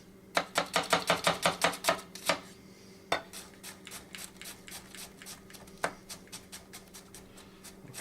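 A knife chops a small onion on a cutting board for coleslaw, a quick run of about a dozen crisp, evenly spaced strokes followed by slower, lighter cuts, close and clear with no talking.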